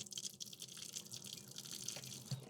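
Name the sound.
water running from SimPure Q3 filtration system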